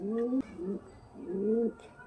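A desi Giribaj high-flying pigeon gives soft, low, throaty coos close by, three rolling calls in a row with short gaps between them.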